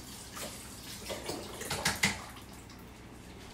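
Tap water runs while something is rinsed off in a home kitchen during cooking, a soft splashing flow that swells and splatters in the middle, fairly quiet and close with no talking.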